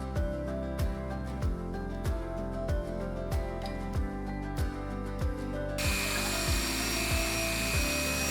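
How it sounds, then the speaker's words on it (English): A Dremel rotary tool on a flex shaft, fitted with a rough sanding drum, tapers leather wristband padding. It gives a steady high whine with regular rhythmic pulsing, then turns into a harsher, hissing grind near the end. "Tapering the interior padding is really easy with a rotary sander, using a Dremel rotary tool"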